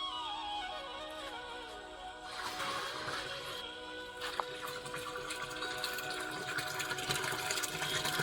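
Twelve litres of milk pour steadily into a panchagavya mixture for farm use, a continuous liquid splashing and gurgling that runs about eight seconds at moderate level with no talk.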